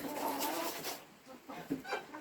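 Chickens cluck softly in a farmyard, with short bird calls near and far, under a person talking.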